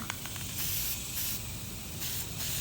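Sprayer hissing onto a polymer clay cotton candy pin, a steady close spray in several continuous bursts with short breaks, no talking.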